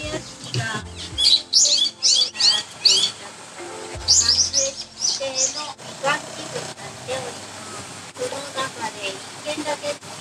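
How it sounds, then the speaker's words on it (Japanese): Waterbirds call with bright chirps and twittering from the castle moat in Tottori during a boat cruise, heard in bursts beneath steady talking and a low engine hum. "本当に水鳥がいっぱいいますね。"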